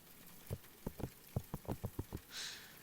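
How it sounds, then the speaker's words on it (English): A loofah rubbed and tapped at close range, giving a series of about ten soft, irregular patters like raindrops, followed by a brief hissing scrape, all quiet with no talking. "loofahs do sound like rain"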